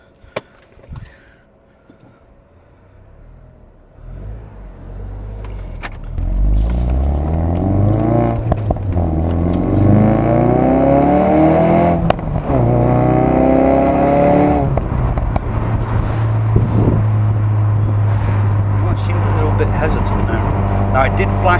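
Ford Focus RS engine and exhaust burble loudly and steadily while driving, with rising and falling revs after a quieter start, close up, with voices talking over it at times.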